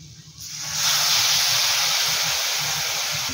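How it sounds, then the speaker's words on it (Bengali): Boiled water from green moong dal is poured into hot spiced masala for dhaba-style dal tadka, bursting into a loud, sustained steamy hiss after a short quieter moment, close and continuous, no talk. "এবার এর মধ্যে দেব তরকার সেদ্ধ করা জলটা।"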